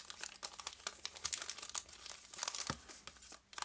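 A trading card booster pack from a special edition set is torn open, its foil wrapper crinkling and crackling in quick, close bursts with a sharper tear near the end, and no talk.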